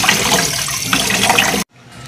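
Glutinous malagkit rice being washed in water, a steady rush of splashing, running water that fills most of the moment before cutting off abruptly to a quiet background.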